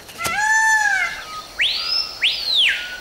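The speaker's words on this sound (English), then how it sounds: "Why do birds sing?" A bird sings clear, loud whistled notes up close, a long sliding phrase followed by two rising-and-falling swoops, with no talk.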